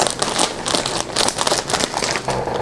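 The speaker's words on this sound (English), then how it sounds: "take the scissors and cut open the socks" Scissors snip and crinkle through plastic-wrapped socks up close, a dense run of loud crackling cuts and rustles with no voices.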